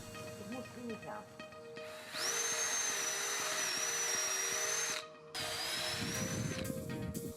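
A power drill whines in two sustained bursts, separated by a brief pause, while fastening anchor bolts into a wooden fence post on an H-anchor post base. The drill sounds close and fairly quiet over low background noise.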